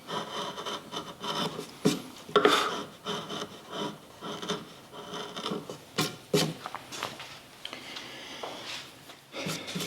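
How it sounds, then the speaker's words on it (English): Small gouge carving wood on a lakeshore cabin landscape relief, heard as close, repeated scraping and rasping strokes in irregular bursts with short pauses, no voices. "I'll have to blend that and kind of taper that properly with a smaller gouge."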